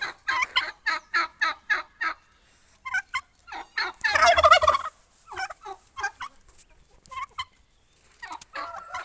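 Repeated turkey gobbles in quick bursts, a rapid series of warbling calls, then a louder, longer gobble followed by scattered softer calls nearby.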